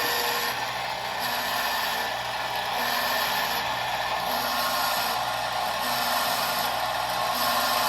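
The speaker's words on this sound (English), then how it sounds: "Next one, blow it out so it's nice and clean" Compressed air blowing through freshly drilled holes in a wooden nightstand panel, a steady loud hiss with rough scraping and rubbing texture running continuously throughout.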